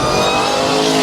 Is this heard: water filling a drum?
no